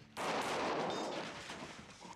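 A single loud gunshot or burst of fire during a police raid scene in a film, starting abruptly and ringing out into a decaying echo.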